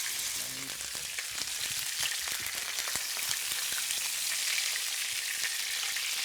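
Seal filet heavily seasoned with salt and pepper frying in hot oil, giving a steady, close crackling sizzle with dense spitting pops throughout, no voices over it.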